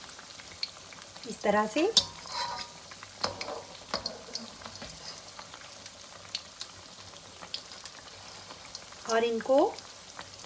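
Broccoli cheese balls fry gently in oil over medium heat with a soft, steady bubbling sizzle, broken by a few clattering stirs and turns, while someone talks quietly over it.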